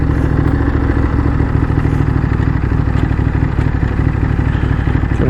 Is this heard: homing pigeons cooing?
no